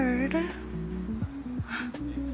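A small bird chirps outdoors among orange autumn trees, with brief high tweets scattered over the first half and again near the end, fairly faint against a steady low hum of background noise.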